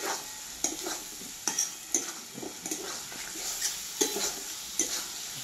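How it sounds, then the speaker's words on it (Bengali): Meat and spices stirred and fried in a pan with a splash of water, a soft continuous sizzle broken by rhythmic scraping strokes of a spoon about every half second, close and alone. "এইভাবে হালকা হালকা করে চালাবো আর খুব ভালোভাবে ভাজবো।"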